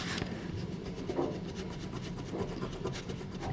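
Fast back-and-forth rubbing of an eraser over erasable pen writing on paper, a soft, close, scratchy friction sound repeating in quick strokes for a few seconds.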